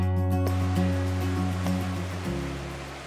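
Ocean waves wash onto a beach in a steady, loud roar, a constant surf hiss under a low droning hum with no voices.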